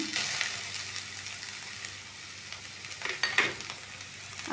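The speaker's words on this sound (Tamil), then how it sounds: "இந்த கேரட்டை அப்படியே நான் இதில் ஆட் பண்ணுறேன்" Grated carrots tipped into a hot pan and stirred for carrot halwa, giving a steady soft sizzle with scraping stir strokes throughout, moderately loud with no talk.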